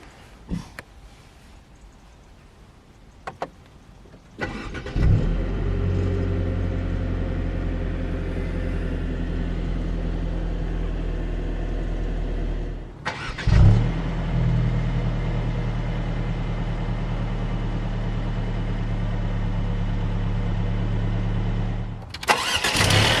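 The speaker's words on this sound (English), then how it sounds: "put your foot on the brake, and hit the button to start." 2021 Mercedes-Benz C180 AMG-Line Convertible push-button startup: after quiet cabin clicks, the engine cranks and fires with a brief rev, then idles steadily and loudly, is shut off and restarted with another rev flare, idles again, then a final start.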